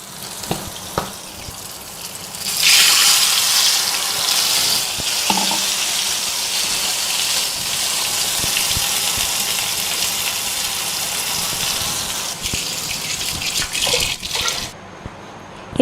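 Water is poured into a pan of sizzling tamarind chutney: quiet frying, then a sudden loud rush of pouring and hissing that settles into steady bubbling sizzle before a brief clatter and an abrupt stop.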